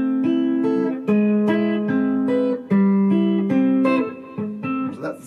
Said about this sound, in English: That's the strumming pattern for the next few chords